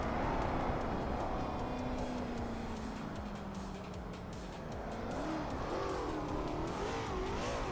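In a racing video game, race cars jostle for position, engines revving and whining as they overtake one another, with tires squealing under a constant loud roar of motors.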